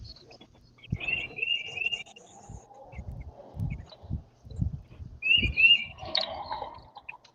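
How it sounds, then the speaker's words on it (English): Small birds chirp and tweet outside an open window at a lakeside fishing spot, with short high calls near the start and the end, over low room noise and soft handling thumps. "especially when you hear the birds chirping,"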